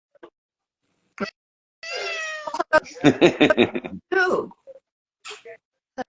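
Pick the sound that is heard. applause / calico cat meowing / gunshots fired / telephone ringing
calico cat meowing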